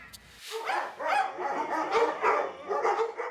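Dogs in a jumble of cages at an animal shelter in Lagos bark and yip in an overlapping, continuous cacophony, loud and close, with some whimpering mixed in.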